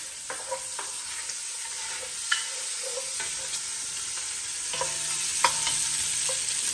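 Bacon frying in a pan, a soft steady sizzle punctuated by several sharp, scattered pops at irregular intervals, heard close and alone.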